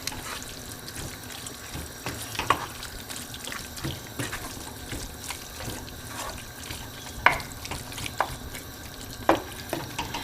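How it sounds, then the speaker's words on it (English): Quorn mince curry being stirred in a pan, a soft continuous sizzle with scattered light scraping and clinks of the spoon against the pan, close and without talk. "So let's give our curry a little bit of a mix there."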